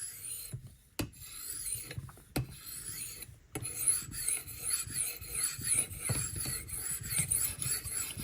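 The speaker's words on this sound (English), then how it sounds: "just trying to hone that fine micro edge of the tip" Knife edge honed on a ceramic sharpening rod with a very light touch, giving repeated thin, high scraping strokes, close and fairly quiet, broken by a few sharp ticks.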